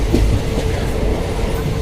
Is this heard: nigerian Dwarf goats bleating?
no